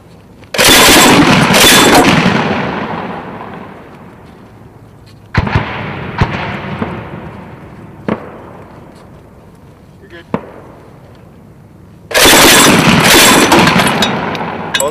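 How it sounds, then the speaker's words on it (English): Mk 19 grenade launcher firing three-round bursts on a Marine range: two loud, booming bursts of rapid reports at the start and end, with sharper isolated cracks and echoes in between, and speech from the crew nearby. "All right, you're condition one, firing 3-round bursts."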